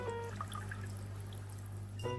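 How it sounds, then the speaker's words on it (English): Aquarium water drains through a siphon tube in a soft, continuous trickle and gurgle over a low steady hum, with a small shift in sound just before the end. "the tank water falls by, it falls by the siphon principle"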